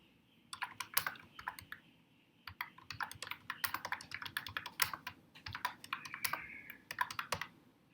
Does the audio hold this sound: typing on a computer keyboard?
yes